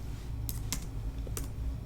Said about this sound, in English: Keyboard sounds.